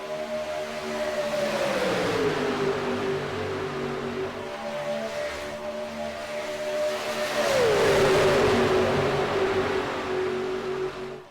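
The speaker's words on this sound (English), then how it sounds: "Drivers doing 190 miles an hour as they cross the start-finish line." Race cars in the C12 Gen 4 Series roar past the start-finish line at Talladega at about 190 mph, a loud engine drone that falls in pitch as one car passes, then a second swelling pass, close and alone.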